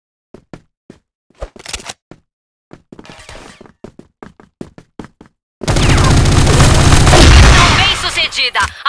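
A grenade blast in a competitive online shooter match, arriving as a loud, sustained roaring burst after a run of sharp isolated clicks and knocks, with a voice heard briefly beforehand.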